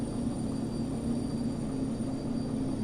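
Diesel locomotive engine in the train simulator Derail Valley, a steady low droning rumble with a sustained tonal hum, even and continuous, no talk.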